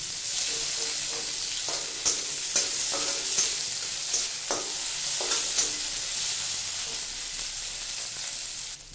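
Onion and green chillies fry in hot oil as a spoon stirs them, a steady sizzle broken by repeated scraping knocks against the pan, close and continuous with no talking.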